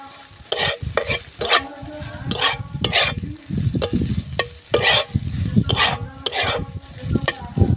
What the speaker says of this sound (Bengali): এটা এবার খুব ভালো করে আমি মিশিয়ে নেব।